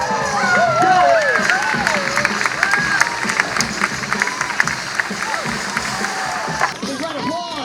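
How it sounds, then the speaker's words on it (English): An outdoor crowd claps and cheers for a water skier's front flip at a ski team show. Loud, excited voices and shouts run through the applause across the whole stretch. "Big round of applause for Mikey."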